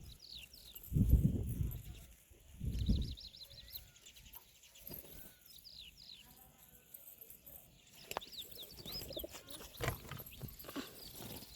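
Pigeons give a few low, soft coos in two short bursts early on, followed by quieter chirping and faint rustling in an otherwise calm outdoor setting.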